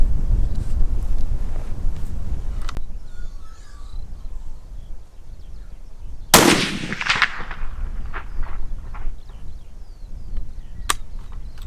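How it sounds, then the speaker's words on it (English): A single loud shot from a Christensen Arms rifle in 300 PRC at a private shooting range rings out sharply midway, with steady wind buffeting the microphone before and after and faint echoing tails. "I'm gonna send this third round."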